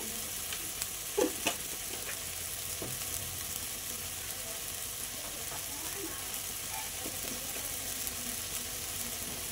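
Bhola fish curry masala with turmeric and salt sizzling and being stirred in a pan, a soft steady frying hiss with occasional scraping clinks near the start, fairly faint and without talk.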